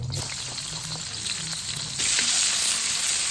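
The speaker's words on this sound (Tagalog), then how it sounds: "Igisa na natin yung sibuyas at bawang." Onion and garlic sauté in a hot pan, a dense, close sizzle that swells louder partway through, with faint stirring knocks underneath.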